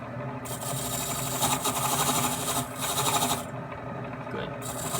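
A power tool scuffs up freshly welded metal nearby, giving a steady, close buzzing grind that wavers slightly as it works across the surface.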